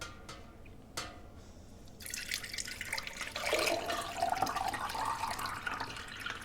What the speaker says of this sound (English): we're just going to drain the milk into the pint jar